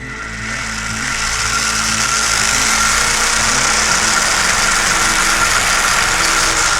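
Electric motor of a TLR 22x4 RC buggy running steadily, a loud continuous high-pitched whine with buzzing mid tones, rising slightly at the start and then holding level throughout.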